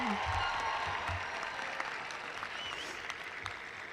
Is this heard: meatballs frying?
no